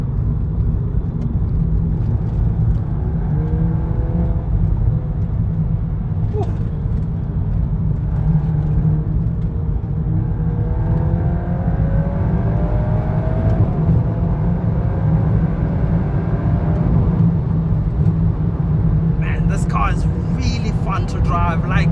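A 2023 VW Golf R MK8, 320 hp with a DSG gearbox, drones steadily from inside the cabin while accelerating, its engine note rising and falling in pitch under continuous talking.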